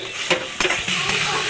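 Fried potatoes and green chillies being stir-fried in spice masala for a Bengali bhetki fish bone kosha, with a few scraping stirs and clinks of a spatula over a soft steady sizzle, close and moderately loud.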